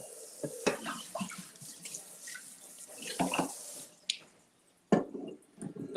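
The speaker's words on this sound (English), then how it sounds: "Mom says clean as you go, so just rinsing off" Kitchen tap water runs steadily while cooking utensils are rinsed off, with splashing bursts and a few sharp clinks close by; the flow stops briefly near the end before resuming.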